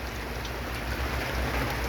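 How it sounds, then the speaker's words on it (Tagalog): Heavy rain pours steadily during a storm, a dense continuous wash of drops close by with no pauses. "Okay, ang ulan. Ulan na."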